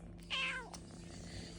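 A Persian kitten gives one short, clear meow, close and fairly quiet, over a soft room hum.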